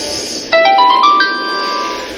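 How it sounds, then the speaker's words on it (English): A phone nearby goes off with a bright ringtone, a quick run of rising electronic notes sounding over a constant background game hum. "it was just the phone next to me going off."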